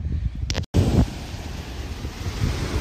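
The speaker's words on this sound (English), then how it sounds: "Well, I apologize for the wind." Strong wind buffeting the microphone at a beach on a fishing outing, a steady loud roar with low rumble and a brief dropout near the start.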